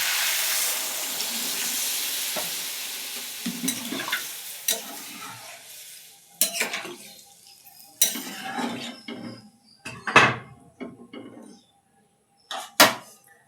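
Water poured into a cooking pot while preparing food for a home puja, with dish and utensil clatter around it. The sound comes in several short, loud bursts later on, over a quieter, steady wash of background noise.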